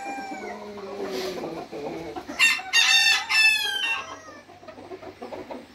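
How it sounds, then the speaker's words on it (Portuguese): Several Brahma roosters crow loudly and close, their calls overlapping, with clucking chickens and other farmyard birds around them. "Essa baia só tem galo."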